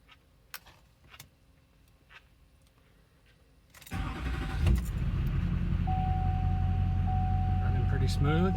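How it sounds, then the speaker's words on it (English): A 2005 GMC Duramax LLY diesel truck is started: a few faint clicks and ticks, then the starter cranks and the engine catches and settles into a loud, steady, close idle. "We're gonna fire up the truck really quick and see how this goes."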